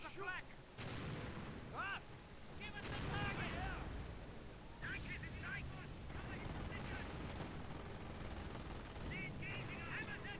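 Gunfire and artillery-like blasts from the World War II strategy game Company of Heroes, with a modded setup, form a steady rumbling battle bed of repeated shots and booms while a person talks over it.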